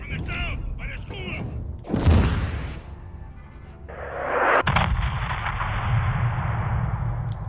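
Gunfire in Call of Duty Modern Warfare 2 near a school, with a heavy boom, a sharp shot and a sustained roar of fire and action, loud and close. Voices speak over the opening seconds.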